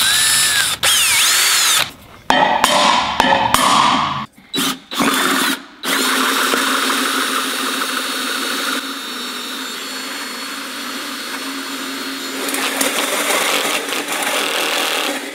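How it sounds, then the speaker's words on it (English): A power grinder cuts down a cutout in a compact car being built into a tiny home, with loud, sustained harsh whining broken by several brief stops and restarts near the start, then a long continuous grind. "but I grinded it down"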